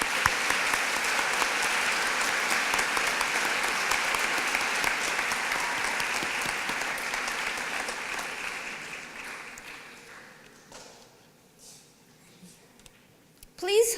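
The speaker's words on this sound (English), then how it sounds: "Would you give them a big round of applause?" Graduation audience applauding the orchestra, a large crowd in a hall with loud, sustained clapping for around nine seconds that gradually thins and fades, followed by near quiet and a few scattered sounds.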